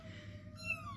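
Small kittens meow softly at close range, a thin high cry rising near the end over a low steady hum, with no talk.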